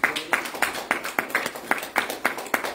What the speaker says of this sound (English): give yourselves a round of applause for this